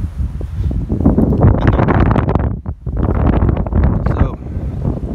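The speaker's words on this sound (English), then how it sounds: "Woo, the wind." Strong outdoor wind buffeting the microphone in sunny open country, a loud, continuous rushing roar with a short lull midway before gusting back up, no voices over it.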